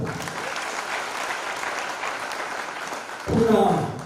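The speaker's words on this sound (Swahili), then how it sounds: "Tupige makofi tena" Church congregation applauding at the grand opening of a new sanctuary, a steady wash of clapping hands that swells louder near the end, with voices mixed into the crowd noise.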